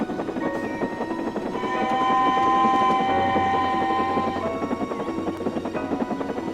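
An animated steam engine, Tornado, speeds across a railway, a steady rumbling run with sustained whistle-like tones rising and fading over several seconds, with no talk.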